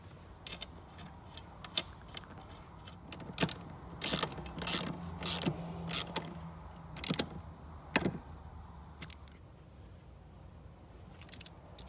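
Metallic clicks and ratcheting come in scattered bursts as bolts go back into a 2005-2009 Ford Mustang passenger seat, close and moderately loud, with quiet gaps between.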